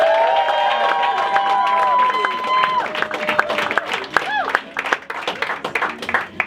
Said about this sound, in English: Start clapping right now for Lauren Vino, everybody.